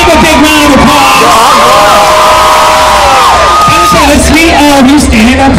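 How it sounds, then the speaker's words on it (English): An audience at a Buffalo, NY pride event whoops, yells and cheers for contestants on stage, a dense and loud burst of crowd noise with voices rising and falling throughout. "Give them a big round of applause."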